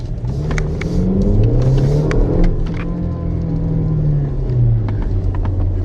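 A 2019 Kia Stinger accelerating in sport mode, the engine rumbling loud and close as revs climb and drop through gear changes, with faint clicks over the steady roar.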